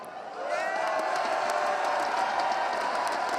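A large esports arena crowd at ESL One New York roars steadily for NaVi during a CS:GO grand final, a dense, sustained wall of cheering and whoops that swells after a moment and holds loud throughout.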